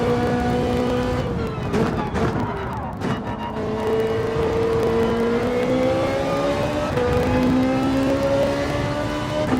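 Race car engine in Gran Turismo 7 drones steadily with shifting pitch, rising and falling through gear changes over a continuous loud bed of game sound.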